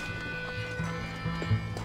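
Hooves of a horse in Red Dead Redemption clop softly at a walking pace over a low droning game soundscape, with a few faint thuds spaced through it.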